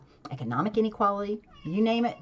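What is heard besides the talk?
cat meowing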